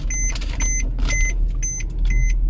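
A 2012 W204 Mercedes C63 AMG idling with a low engine rumble while a repeated electronic beep chimes five times in steady rhythm, the reverse warning tone after being put into gear.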